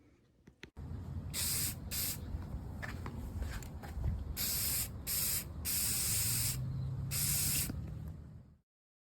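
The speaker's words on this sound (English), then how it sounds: "I'm gonna use a spray paint right here to seal it." Repeated bursts of spray paint hissing from a can, several short and long sprays with brief pauses between them, close and clear.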